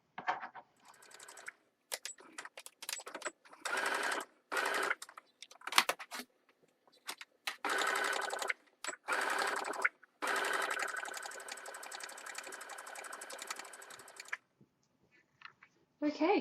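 A home sewing machine back-stitches fabric pieces for a cosplay neck bow, running in several short bursts and one longer steady run, with pauses between. The whirring is close and fairly loud, and no one talks over it.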